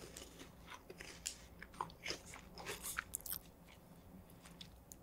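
A crunchy Japanese snack that resembles a Cheeto, likely sweet with a soy base, is bitten and chewed up close, giving a series of soft, crisp crunches over a quiet background.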